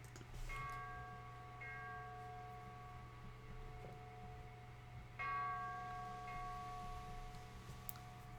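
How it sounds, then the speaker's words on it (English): A shrine bell in the video game Go! Go! Nippon rings twice, each strike leaving a sustained, shimmering tone that slowly fades, heard faintly over a steady low hum. "Hi-ho, I'm ringing a bell as I sing hi-ho"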